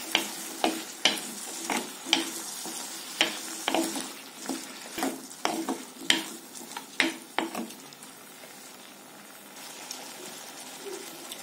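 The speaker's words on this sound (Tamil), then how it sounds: "இப்போ இந்த சுரக்காவை எண்ணெயிலே ஒரு 2 நிமிஷம் நல்லா வதக்கிக்கலாம்." Bottle gourd pieces are sautéed in oil, a spoon scraping and stirring in rhythmic strokes over a soft sizzle, the strokes fading after about eight seconds leaving a quieter sizzle.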